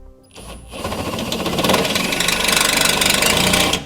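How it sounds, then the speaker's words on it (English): A power drill with a hole saw cuts a 2-inch hole for a Curt trailer hitch receiver on a 2014 Infiniti, spinning up and grinding loudly with a rattling hum, close and steady, with no one talking. "we got our hole drilled out"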